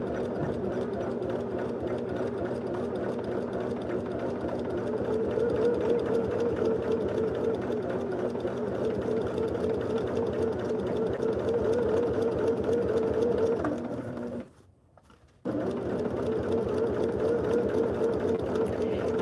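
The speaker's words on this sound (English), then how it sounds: "I'm running my stitching right either on or next to the stitching that's already there." A sewing machine stitches sweatshirt fabric in a steady, continuous hum with a rapid mechanical rattle, stopping briefly near the end before running again, with faint talk in the background.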